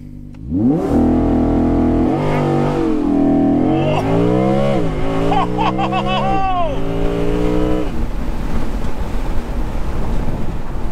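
An Audi R8 V10 Spyder launching from a standstill under launch control, its engine roaring up through rising revs with quick gear shifts, loud and close, then fading into wind rush.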